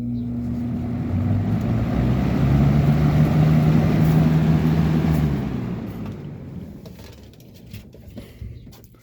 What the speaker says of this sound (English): A Robeson 20-inch box fan.